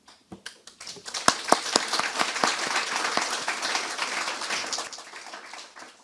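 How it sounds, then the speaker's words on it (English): Audience at a 2023 graduation ceremony applauding the faculty and administrators: a few scattered claps at first, then dense sustained clapping that swells and holds steady before tapering off. "this is the moment also to applaud the faculty and administrators who have accompanied and guided you on your journey"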